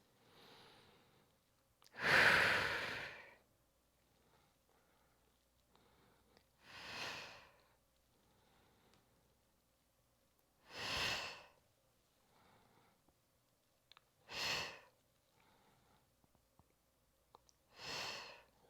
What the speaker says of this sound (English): Inhale as you lower, exhale as you press up.